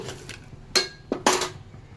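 Peanuts being stirred while dry-roasting in a pan, a few sharp clinks and scrapes of utensil against metal in separate bursts, close and moderately loud with no talk.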